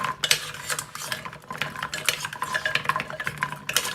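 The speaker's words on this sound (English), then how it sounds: "I'm going to take a cooking spoon and we're going to kind of stir them up a little bit" A cooking spoon stirs food in a bowl, producing an irregular run of close scraping, clinking and shuffling sounds without pauses or talk.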